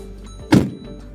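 A single heavy thunk from a door shutting on a Renault electric car, one solid close slam with a short dull resonance afterward and no talking.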